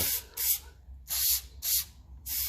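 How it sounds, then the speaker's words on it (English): Five short bursts of aerosol spray hiss close by in an uneven rhythm onto a rusty Ferguson tractor part, with brief quiet gaps between them. "I'll give it a good spray down"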